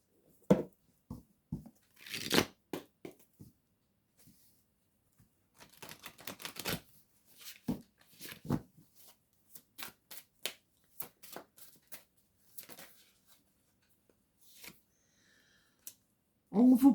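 Lumière de Fée oracle cards are shuffled and flicked by hand in soft, intermittent bursts of riffling and tapping, close and fairly quiet, with a few brief pauses.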